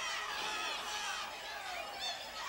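A 1983 Mid-South Wrestling arena crowd roars in steady, noisy disapproval, a dense wash of shouting and jeering voices with no clear break.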